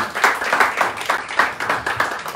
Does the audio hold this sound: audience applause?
yes